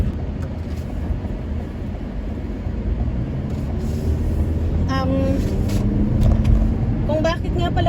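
Traffic rumbles steadily in a slow queue of cars evacuating from a wildfire, engines and tires droning nearby; a voice talks over it and a brief tone or horn sounds midway.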